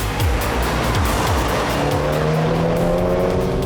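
A 2019 BMW 1 Series under hard acceleration revs loudly, its engine note rising in quick sweeps through gear changes, with a close, busy roar and some tire noise.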